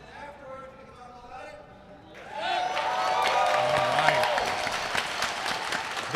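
Spectators at the IFG Tournament of Roses 2025 longsword finals murmur quietly, then swell into loud, lively crowd noise with clapping and cheering, while voices talk over it.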